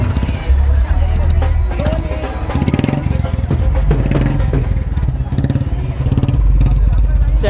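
Motorcycles of a Congress party bike rally on the streets of Mehatpur, Himachal, rumble and rev loudly and close, a dense continuous engine roar with clatter and crowd noise mixed in.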